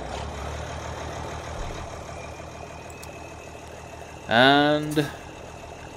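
A tractor engine in Farming Simulator 2017 hums at a low, steady idle throughout, with someone briefly talking near the end.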